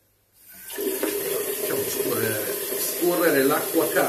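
Hot water runs steadily from a tap, likely to soak a silvertip shaving brush for Floris Elite hard shaving soap; a continuous, fairly loud rushing splash starts abruptly and holds without a break.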